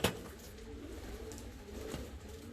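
A large blue-marked Hünkari saltonette fancy pigeon coos softly, low throaty murmurs repeating quietly over faint background noise.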